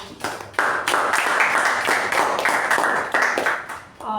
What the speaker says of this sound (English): So huge round of applause for our VP Toastmaster Apurva.